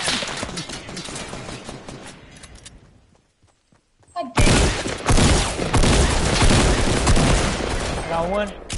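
Gunfire from a video game shooter with a silenced pistol comes in loud bursts of rapid shots and impacts. They stop briefly into near silence, then resume with heavy volleys, while people talk over the action.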